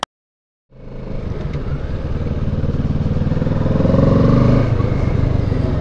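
Kawasaki Ninja 650 motorcycle riding off, engine starting from silence into a steady rising rumble that swells as it pulls away, then eases slightly, close and loud.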